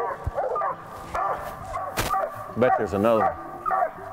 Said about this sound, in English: I like it that they bark on the trail